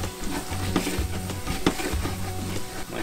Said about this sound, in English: you're just gonna have to constantly stir it at this point